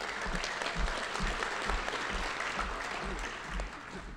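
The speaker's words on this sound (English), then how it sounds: "Deserve the applause." Audience at a Fordham Gabelli School of Business award ceremony applauding, a dense, steady wash of clapping from a sizable crowd in a hall, continuous for about four seconds without talk.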